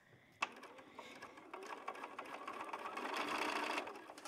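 Sewing machine stitching sashing strips onto quilt pieces, starting with a sharp click and then a steady whirring run of needle strokes that grows louder before easing off.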